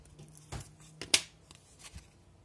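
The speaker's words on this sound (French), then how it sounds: "je vais prendre une paire de ciseaux et je vais venir couper cette partie là" Scissors snip paper for a scrapbook album page, a few quiet, sharp cuts spaced irregularly at close range, with one crisper snap standing out.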